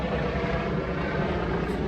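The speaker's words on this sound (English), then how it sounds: "A lot of helicopters and sirens and stuff" A steady, broad rumbling whir of a helicopter flying over a city fills the clip continuously, loud and unbroken, with no voices.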